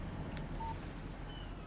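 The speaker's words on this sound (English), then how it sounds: "Text message from Barry." A short electronic text-message alert tone from a phone in the video game Alan Wake, a single brief beep over a low steady background hum.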